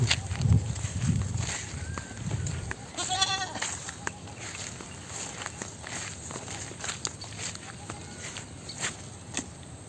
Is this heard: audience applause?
no